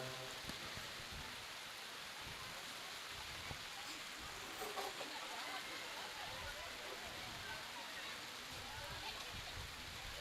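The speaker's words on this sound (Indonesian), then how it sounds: "Alhamdulillah hujan rahmat." Steady rain falls throughout a neighbourhood Maulid Nabi gathering in Cibitung, a dense continuous patter that stays even from start to finish, with faint background sounds mixed in.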